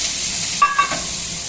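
Rice fried in a pan with onion and tomato gives a loud, close, steady hissing sizzle, with a couple of brief stirring scrapes partway through.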